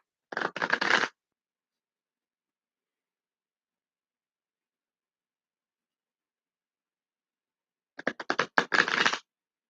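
Tarot deck being shuffled at close range, two short bursts of rapid riffling card flutter, one at the start and one near the end, with silence between.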